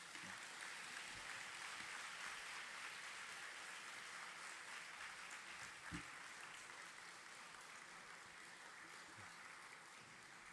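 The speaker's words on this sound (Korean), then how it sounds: "우리 따뜻하게 박수로 맞이하면 감사하겠습니다." Church congregation applauding at a Sunday service in welcome of the visiting pastor, a steady, dense wash of clapping that fills the whole stretch at an even level before easing slightly toward the end.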